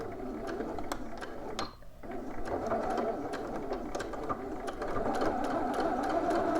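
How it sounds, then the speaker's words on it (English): A sewing machine stitches steadily through pant fabric for a reinforcing backstitch along the front, running with a dense mechanical whir that pauses briefly about midway before resuming, close and alone. "go ahead and stitch to reinforce the front of our pants"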